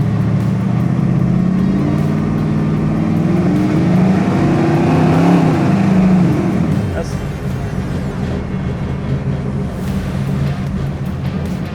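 A 1971 Chevelle SS engine warming up at idle with a deep, steady rumble, loud and close, settling slightly lower partway through.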